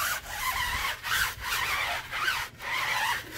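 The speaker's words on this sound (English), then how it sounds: "And maybe scrub these tires nice and good." A tire brush scrubs car tires close up, making a rough, repeated back-and-forth rubbing and swishing with short pauses between the strokes.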